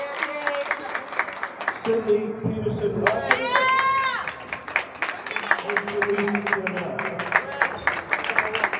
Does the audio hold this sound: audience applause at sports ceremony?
yes